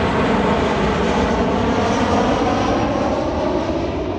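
Fixed-wing airplane passing low overhead near SeaTac airport in Burien, a loud, steady broadband engine roar filling the whole moment outdoors with no talking.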